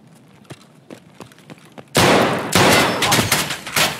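Gunfire in Escape From Tarkov: a few isolated distant shots, then a loud, sustained burst of rapid close-range automatic fire with brief gaps, dense and reverberant.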